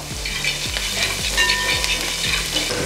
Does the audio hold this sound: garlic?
yes